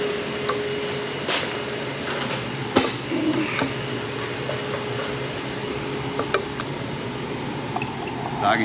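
Water gurgles through an HVAC primary drain line while a vacuum draws on it, a close, continuous wet rushing hiss with scattered small pops and gulps throughout.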